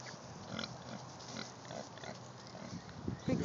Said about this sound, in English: He woke up the pigs.